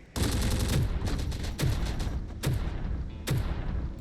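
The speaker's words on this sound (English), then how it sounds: "Enemy fire!" Heavy gunfire in a tactical military video game: loud, close bursts of rapid automatic fire and booming shots in several rounds, separated by brief pauses.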